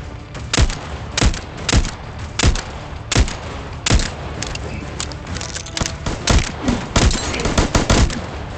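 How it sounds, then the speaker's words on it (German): Gunfire in the cooperative PC game VoidTrain: a series of sharp, punchy shots in fairly regular bursts, then quicker scattered shots toward the end, loud and close. "Was schießt du auf mich?"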